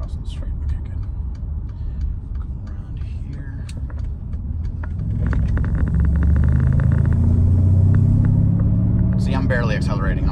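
A Mercedes SL550 (R231) engine rumbles with a deep, throaty exhaust note, cutout valves open, swelling louder midway through, heard from inside the cabin with road noise.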